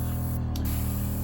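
A Gaahleri Turbox Mini airbrush running from its portable compressor gives a steady close hiss with a low motor hum underneath, a brief dip in the middle, and no voices.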